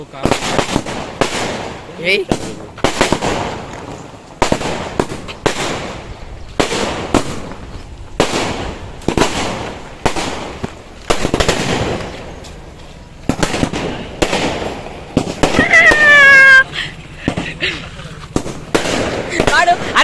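Firecrackers burst in rapid succession, loud sharp bangs repeating every second or so, with people talking and a whistling rocket partway through.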